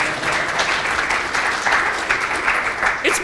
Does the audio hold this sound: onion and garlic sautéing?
no